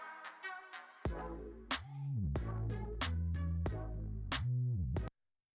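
A quiet music loop plays at very low level, with rhythmic percussive hits over sustained tonal layers for about five seconds before stopping suddenly; no voices.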